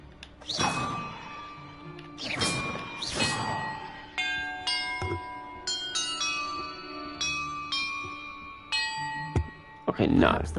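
Bells in a Hogwarts Legacy puzzle are struck one after another, ringing clear, sustained chime tones that overlap as each decays, between louder thuds and whooshes at the start and end.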